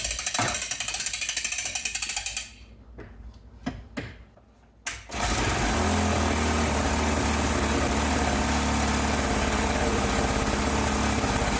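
A 1964 Briggs and Stratton 3hp wind-up engine, freshly cleaned, runs with a steady close mechanical clatter; after a brief sputtering lull it picks back up into a loud, continuous ratcheting rattle.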